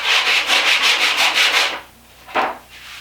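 Rhythmic back-and-forth sanding of a wooden handle, about a dozen quick strokes, then a pause and one more scrape; close and fairly loud.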